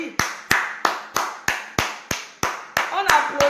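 A person claps in a slow, even rhythm, about ten sharp close claps, while another voice talks over the last second; the setting is a school-supply fundraising appeal.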